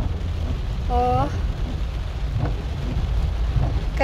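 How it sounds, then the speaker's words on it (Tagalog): Heavy rain pours steadily on a rainy day, a dense continuous wash with traffic moving slowly through it, and a brief tonal sound near the start. "Dahil sa grabe yung ulan."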